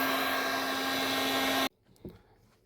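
A thermostat-controlled heater runs during honey extraction, giving a loud, steady whirring hum with a low tonal drone that cuts off abruptly, followed by quiet room tone and a single soft knock.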